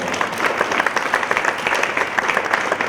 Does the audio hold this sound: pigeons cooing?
no